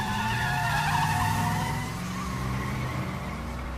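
A car engine idles and rumbles steadily at close range outdoors at night, with a faint tire-like squeal in the upper range and a slight drop in level as the car begins pulling away.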